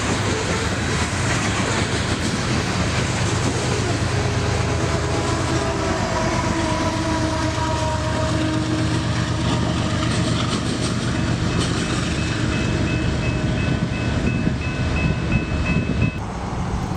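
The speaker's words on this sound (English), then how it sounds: "get ready for the next train to roll past at night" At night a train rolls steadily past, a loud continuous rumble of wheels and wagons with faint metallic squeals and a thin tonal whine near the end, heard alone without speech.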